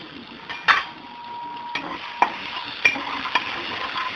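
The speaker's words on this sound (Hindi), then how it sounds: "और हिला लेना है" Coriander paste frying in a pan while being stirred with a utensil, a continuous sizzle punctuated by several sharp metallic clinks and scrapes against the pan, without any talking.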